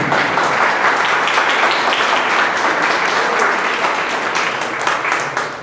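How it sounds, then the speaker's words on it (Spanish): A church congregation applauds during a Sunday service, a loud, dense and sustained wash of many hands clapping that tapers slightly at the end. "quiero que les den un fuerte aplauso para estos chicos que están trabajando"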